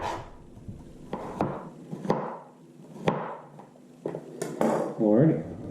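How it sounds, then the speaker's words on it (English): A courgette is sliced on a cutting board into half-centimetre rounds after its ends are trimmed, giving irregular sharp knife knocks spaced a second or so apart, with some clattering and a low hum behind. "Take a courgette, take the ends off, same thing, 1/2 centimeter slices."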